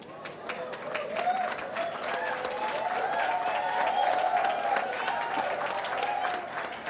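An audience at a 27th convocation ceremony applauds the graduating batch of 2024, with steady, dense clapping from a crowd that sounds somewhat distant, sustained throughout.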